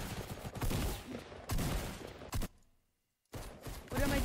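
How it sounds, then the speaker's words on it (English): Rapid gunfire from the video game Fortnite comes in loud bursts, a cluster of shots, a brief silence, then more firing. "Does it really take this many shots to kill a person?"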